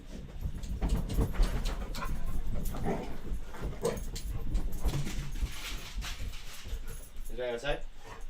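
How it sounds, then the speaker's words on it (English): A dog whines and whimpers from upstairs in a house, high and fairly faint, with a jangle of keys and someone talking over it. "I hear Bella whining upstairs."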